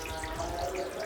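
Water from a leaking aquarium trickles and drips in a steady close watery patter, continuous and without speech.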